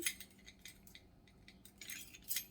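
Metal cutlery clinks and jangles as someone rummages through a drawer for a teaspoon, with a quick run of light rattles and taps near and fairly quiet.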